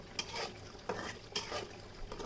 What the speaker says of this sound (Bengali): ঢাকনাটা উঠিয়ে কলিজাটা আমি নাড়া দিয়ে দিচ্ছি।